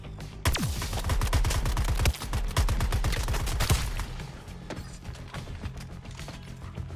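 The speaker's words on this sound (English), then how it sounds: "Quite like the shooting though with this guy." Rapid, continuous gunfire from a shooting sequence in Suicide Squad: Kill the Justice League, with dense, loud repeated shots lasting several seconds before thinning into scattered bursts.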